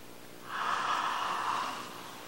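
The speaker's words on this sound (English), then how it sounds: "Now take a yawn." A person takes one long, breathy yawn during a breathing exercise, rising and fading over about a second, fairly quiet with no talking.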